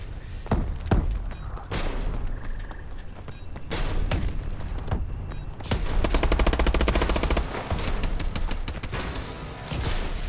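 Scattered gunshots and thuds in Call of Duty: Advanced Warfare build into a sustained, rapid machine-gun burst, then taper off into a few more shots, loud and close.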